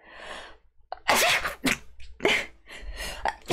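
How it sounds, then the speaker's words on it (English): A person sneezes close to the microphone, a sharp burst followed by further breathy bursts and mouth noises in quick succession, with no other sound around. "I have to sneeze."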